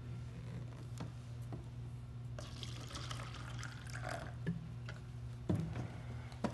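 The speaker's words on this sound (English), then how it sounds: "now let's pour a little Kangen water in here" Kangen water poured into a glass holding tea, a soft trickling splash starting partway through with a few small clinks against the glass, close and quiet.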